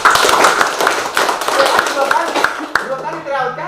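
Audience clapping at a free tutoring event for students in Toba, a dense burst of many hands that thins out after a few seconds into scattered claps, with a voice speaking briefly at the end.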